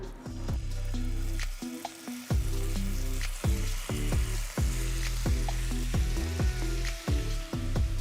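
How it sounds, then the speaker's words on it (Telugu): Marinated chicken sizzles loudly in a tablespoon of oil in a pan, a steady close frying crackle punctuated by repeated scraping stirs roughly every half second to second throughout. "ఇప్పుడు ఒక ప్యాన్లో ఒక టేబుల్ స్పూన్ నూనె వేసి అందులో మ్యారినేట్ చేసి పెట్టుకున్న చికెన్ వేస్తున్నాను"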